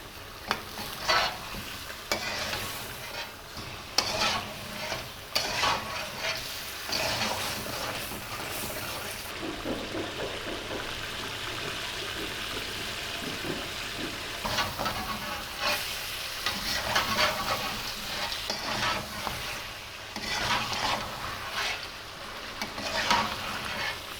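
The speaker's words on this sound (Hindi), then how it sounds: "मटन को मसालों के साथ हम अच्छे तरीके से भून लेंगे।" Mutton frying with spices in a karahi gives a continuous loud sizzle, with repeated scraping, stirring strokes in an uneven rhythm throughout.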